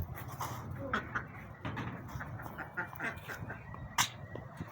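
Ducks quack in short, scattered bursts nearby, with faint human voices murmuring in the background.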